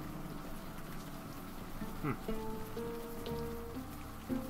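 Pouring rain in the adventure video game Unavowed, a soft continuous hiss of falling water, fairly quiet, with gentle sustained musical tones in the game's soundtrack sounding over it.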